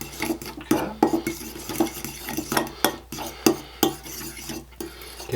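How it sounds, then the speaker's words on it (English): A fork clinks and scrapes against a bowl while stirring sauce made with Worcestershire sauce, giving a quick, irregular series of sharp metallic taps and swishes close up, with no talking. "we're just going to mix this together here. Just take a fork."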